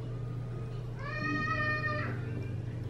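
A single domestic cat gives one clear, drawn-out meow of about a second, close and fairly loud over a quiet room with a low hum.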